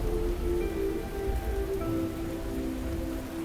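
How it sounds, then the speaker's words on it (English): Steady rain falls in the video game Fantasian: Neo Dimension, a dense, even patter heard alone with a faint tonal hum beneath and no voices. "At some point, the rain began to fall once more."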